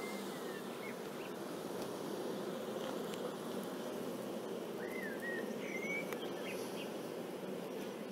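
Honeybees hum in a steady, soft, close drone while brood frames are inspected on a foundation-only hive during its first inspection, with faint bird chirps in the background.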